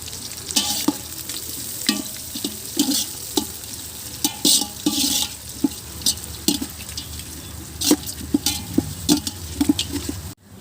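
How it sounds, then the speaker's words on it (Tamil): Onions frying in a pan for traditional mushroom biryani sizzle steadily while a ladle scrapes and stirs in frequent close strokes, occasional clinks against the metal pan. "பாருங்கள், வெங்காயம் இந்த அளவுக்கு நல்லா வறுவந்துருச்சு"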